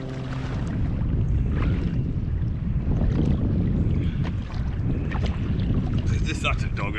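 Strong nor'easter wind roars across the microphone while a kayak is paddled back toward shore on open ocean, a constant heavy buffeting with water splashes and paddle strokes breaking through.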